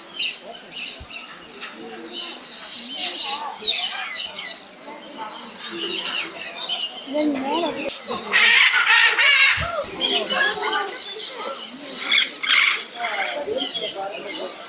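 Loud, harsh macaw squawks and screeches from many birds at once in an aviary at a bird park, continuous and overlapping, with faint voices mixed in.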